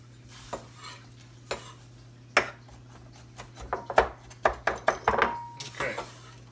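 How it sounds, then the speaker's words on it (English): A knife chops pecans on a board for a toffee garnish: scattered sharp taps that start sparse and speed into a quicker cluster of cuts, close by over a steady low hum. "I'm gonna take some of these pecans here. Kind of just, you know, chop them up"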